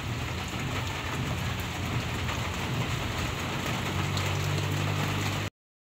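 Heavy rain pours down steadily, a dense, continuous hiss with a low rumble underneath, loud and close throughout.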